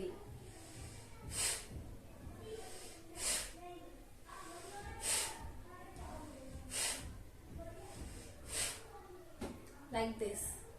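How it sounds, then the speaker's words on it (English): Forceful bhastrika pranayama breathing: about six sharp, rhythmic nasal blasts spaced roughly two seconds apart, close and breathy, with a quiet voice murmuring faintly underneath. "Inhale,"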